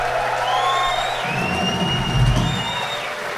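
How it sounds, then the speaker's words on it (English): A concert crowd at a gig in Sydney cheers and applauds loudly, with whoops and whistles rising over a steady roar and a low stage hum underneath. "I think you should give him a round of applause"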